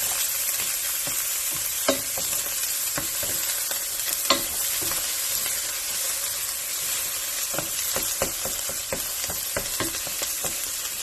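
Eggs and onions frying in a hot pan for cauliflower rice, a loud steady sizzle with intermittent spatula scrapes and taps, clustered more tightly in the latter half, no talking.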